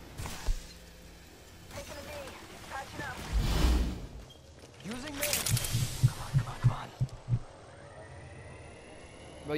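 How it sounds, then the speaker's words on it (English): Low, regular heartbeat thumps from a PS4 game sound effect, a run of close, steady beats in the middle, set among other in-game noise and rumble. "Touching him right sounds like a heartbeat"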